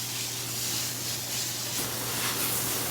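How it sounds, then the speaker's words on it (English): Outdoor hose spray watering bare-root orchids on mounts, including an Epidendrum schwartzianum, in a hot jungle-like garden: a steady, even hiss of water running for the whole stretch, with no voices. "Still watering."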